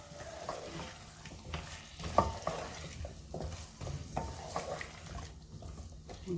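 Eddos stirred in a sizzling masala in a pan, a soft continuous frying hiss broken by scraping and clinks of a spoon against the pot, with no talk.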